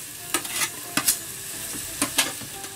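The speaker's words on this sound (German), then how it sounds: "gebe ich die Zwiebelchen dazu" Small onions added to hot olive oil in a pan, a bright sizzle broken by several scraping stirs of a utensil, close and clear without talk.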